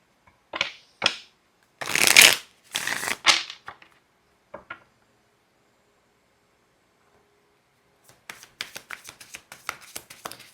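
A deck of tarot cards is shuffled close up in crisp riffling bursts, first a few loud flurries, then a pause of silence and a longer run of quick, rhythmic card flicks.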